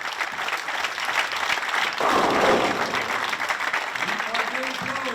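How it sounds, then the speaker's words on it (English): Applause for a semifinalist at a darts masters event rises from the crowd as a steady clapping that swells midway, while an announcer talks over it. "Round of applause for Chris Sloan."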